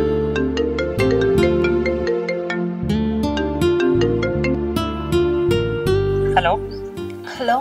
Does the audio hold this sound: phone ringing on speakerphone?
yes